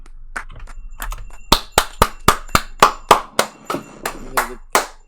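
Hand claps ring out close and sharp, about a dozen in a fairly steady beat after a quiet stretch of room noise, with nobody talking.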